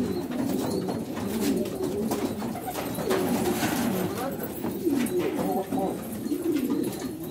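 Domestic pigeons, including a white Ajami bird kept for flying, coo in a steady low chorus under constant background noise while someone talks over them.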